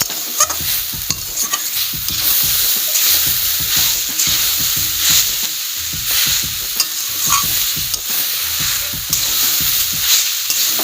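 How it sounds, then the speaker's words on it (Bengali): A spoon stirs and scrapes steadily through taro root curry with turmeric and cumin powder in a pan. The hot sizzle is loud and close, with rhythmic clanks against the pan that continue throughout. "এখন আমি এটি ভালো করে মিশিয়ে নিব।"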